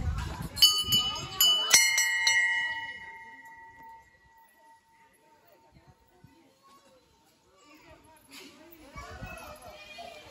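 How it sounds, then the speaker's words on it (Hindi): A temple bell rings at Panchalingeswar temple in Balasore. A few bright metallic strikes sound early and decay with a long ringing tail, while children and other people chatter nearby before and after. "घंटी बजा रहे हैं। घंटी मैं भी थोड़ा बजा दूंगा।"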